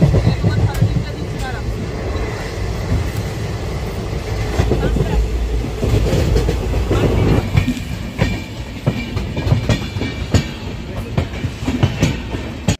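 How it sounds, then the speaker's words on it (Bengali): The Kanchanjangha Express pulling out of Sealdah station runs with steady rail clatter and rumbling wheels, rhythmic clicks and metallic knocks sounding close and continuous throughout. "শিয়ালদা থেকে এক্সপ্রেসটা ছাড়ছে 7:35"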